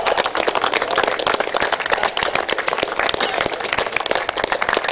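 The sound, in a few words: audience applause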